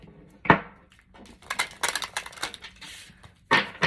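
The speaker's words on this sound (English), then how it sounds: "2 more shuffle for Cancer, please." Tarot cards shuffled by hand, giving a close run of papery riffles and soft slaps in several bursts with short pauses between them, and no talking.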